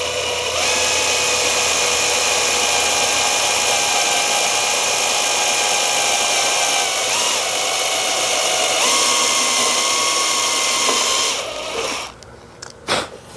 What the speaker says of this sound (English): we're going to drill our pilot hole into the oak